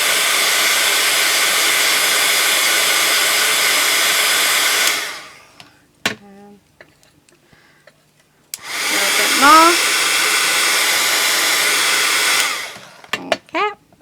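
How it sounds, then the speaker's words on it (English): Heat gun blowing hot air to shape foamiran craft flowers, a loud steady roar running about five seconds, pausing with small handling clicks, then roaring again for several seconds before switching off. "we can just keep going in with the heat gun until we've got the shape we want"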